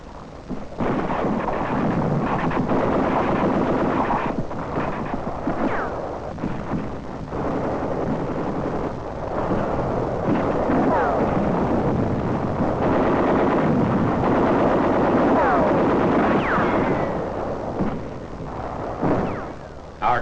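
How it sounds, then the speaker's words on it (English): Heavy caliber mortar fire during the WWII battle of Peleliu, fired from Ngesebus island: a continuous loud roar of blasts and rumbling detonations filling the whole stretch, dense and distorted like old combat newsreel sound, with no voices. "Our troops also are being harassed by heavy caliber mortar fire from the Ngesebus island"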